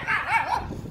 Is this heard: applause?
no